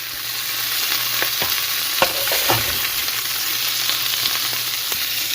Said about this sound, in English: then I'm going to brown my ground meat